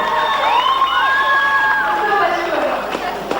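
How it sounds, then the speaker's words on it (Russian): Young audience at the Karakol "Dance Mission" 1997 dance show awards, cheering and shouting for the winner. Loud crowd voices rise and whoop continuously, fading slightly toward the end. "Ребята, ваши аплодисменты победителю."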